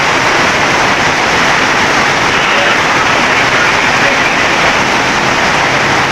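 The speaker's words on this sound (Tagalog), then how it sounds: "Lakas ng ulan." Heavy rain pours down steadily during a flood in a residential area, a loud, dense broadband roar of water lasting throughout with no pauses.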